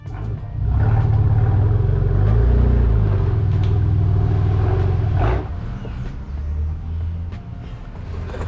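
A BMW M4 fitted with an AWE SwitchPath exhaust drives past or under power, giving a deep rumbling drone that swells, then eases to a steady lower hum, close and fairly loud.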